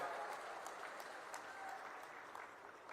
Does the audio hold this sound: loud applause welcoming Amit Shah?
yes